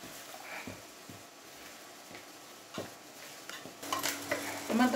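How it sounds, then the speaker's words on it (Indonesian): A utensil stirs flour and baking soda into thick banana fritter batter in a bowl, soft repeated scraping and tapping strokes, close by, ending with a few louder clinks. "dan kita aduk rata ya"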